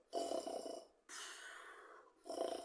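A person imitates snoring with a voice, giving three drawn-out, raspy breaths in a slow rhythm, close and soft.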